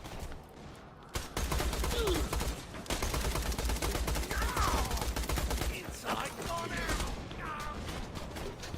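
Continuous automatic gunfire in Borderlands The Pre-Sequel on the moon's low-gravity surface near an oxygen dome, dense rattling bursts running almost the whole time with short pauses and scattered electronic effect sounds in the mix.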